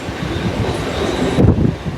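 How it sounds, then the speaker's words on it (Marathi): An express train runs near CSMT in Mumbai, heard from aboard a local train as a loud, continuous rumble and rattle of wheels on track that swells toward the end. "समोरून कुठली तरी एक्सप्रेस CSMTला पोचते,"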